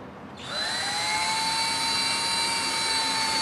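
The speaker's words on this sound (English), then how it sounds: "Now you're going to run your screws in." A power drill drives screws into a wooden toy box. Its high motor whine rises sharply after a brief quiet start, then holds steady and loud to the end.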